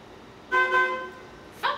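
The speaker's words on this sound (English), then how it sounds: "Go honk your horn in some other neighborhood" A car horn honks outside in a residential neighborhood, one sustained blare of about half a second, then a short second toot a moment later, moderately loud and slightly distant.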